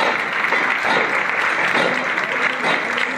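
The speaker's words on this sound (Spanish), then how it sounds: "Y los aplausos del público" Steady audience applause from a street crowd at a Holy Week procession in Cáceres, a dense continuous clatter of many hands that holds evenly throughout.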